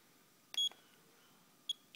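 Buzzer of a Sanwa MT4 radio transmitter giving a short high electronic beep, then after a pause a second brief beep, both close and clean over quiet room tone with no voices.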